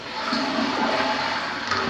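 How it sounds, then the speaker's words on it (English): Toilets flushing in a 1950s Dallas house under remodel: a steady, loud rush of water fills the space without a break, close by and with no talking. "Bathtub, the commodes are flushing."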